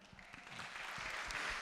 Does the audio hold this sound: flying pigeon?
no